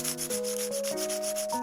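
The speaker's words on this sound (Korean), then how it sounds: "사포로 울퉁불퉁한 면을 정리하고" Sandpaper smooths the bumpy Sculpey clay layer wrapped around a miniature rod, making quick, regular rubbing strokes under steady background music.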